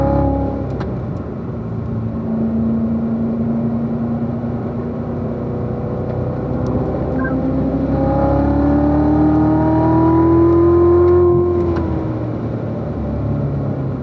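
A Corvette engine accelerates on a racetrack during an owners' school session, rising in pitch steadily over the straight, loud and continuous from the cabin, with no talking.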